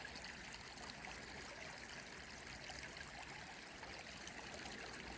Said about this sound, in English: Just the sound of the water,